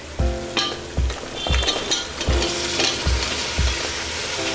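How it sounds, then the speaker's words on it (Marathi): Mixed vegetables stirred and sautéed with onion and tomato in a pan for veg biryani, a steady close sizzle broken by repeated low spoon knocks against the pan at a roughly even pace. "भाज्या घातल्या की छान सगळं मिक्स करून परतून घ्यायचं"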